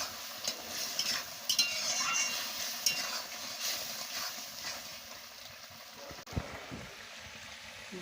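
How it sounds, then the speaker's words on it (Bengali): Cabbage, eggplant and potato chorchori with a little sugar being stirred in a sizzling pan: repeated scraping strokes of a spatula over a steady frying hiss, close up, with a sharper knock near the end. "তরকারিগুলোকে ঢেলে দিচ্ছি। পরিমাণ মতো মিষ্টিটাও দিয়ে দিচ্ছি। দিয়ে ভালো করে নাড়িয়ে নিচ্ছি।"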